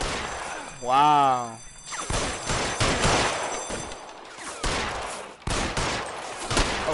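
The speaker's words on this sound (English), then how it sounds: "Okay, with the shooting cutscene." Gunfire in a shooting cutscene from the video game L.A. Noire: bursts of shots and rattling fire over several seconds, loud and dense, with a short spoken exclamation near the start.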